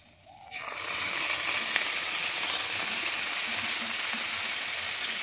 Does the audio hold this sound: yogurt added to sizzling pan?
yes